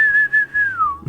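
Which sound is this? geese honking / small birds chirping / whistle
whistle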